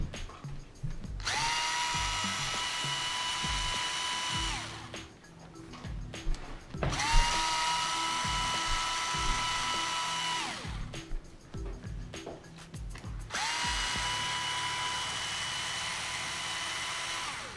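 A power drill backs screws out of an electric skateboard's motor mount, three sustained whirring runs of about four seconds each, separated by clicks and handling noise, close and fairly loud with no talking.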